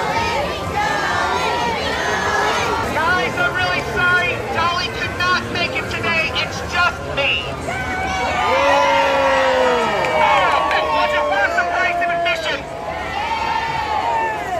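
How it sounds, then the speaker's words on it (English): A large outdoor crowd waits for the Dolly parade at Dollywood, a steady dense chatter with children shouting and scattered cheers over the full stretch, fairly loud and close. "I think this is the biggest crowd I've ever seen waiting for Dolly."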